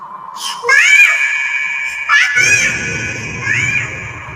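Three loud, high-pitched screams ring out close by, each one sharp and strained, with brief gaps between them.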